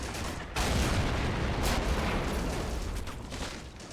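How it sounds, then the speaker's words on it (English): Artillery firing in the Army Men: Plastic Wars video game, a sudden loud boom opening a sustained rumbling barrage of distant blasts and gunfire that slowly fades. "That's artillery!"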